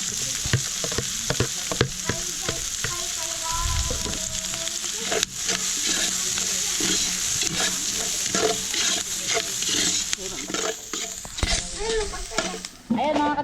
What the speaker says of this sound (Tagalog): gisa tayo ng bawang at sibuyas para sa ating pancit